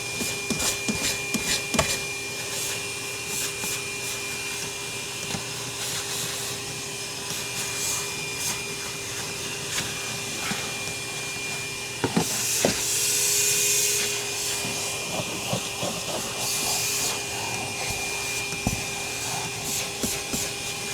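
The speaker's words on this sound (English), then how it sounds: "while you're vacuuming, the light powers up." A shop vac runs continuously with a steady whining drone and a hissy airflow, while an attachment rubs and clicks against an interior surface, close and fairly even in level.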